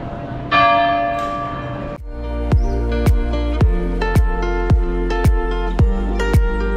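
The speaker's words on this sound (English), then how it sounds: "All the way around the city you can hear the chimes of the clocks." City clock bells ring out at noon in Perth, loud and resonant, striking in an even rhythm with long ringing tails, after a sustained tone at the start.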